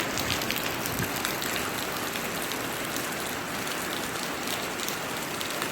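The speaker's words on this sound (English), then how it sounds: "I'm actually gonna walk out in the rain for a sec." Steady rain pours outdoors on a cold day, a dense, even hiss of drops on surfaces filling the whole stretch at close range with no voices.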